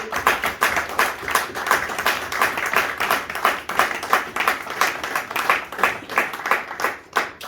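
A church congregation claps loudly in praise, a dense, rhythmic run of applause with regular pulses lasting several seconds, close and steady with no talking.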